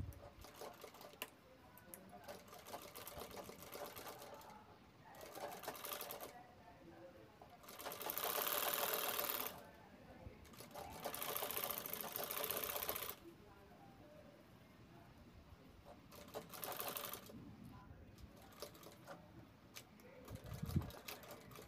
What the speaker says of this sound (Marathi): आता इथं सेंटरला आपण हा पीस राऊंड शेपमध्ये असा सरकवत शिवून घ्यायचा आहे।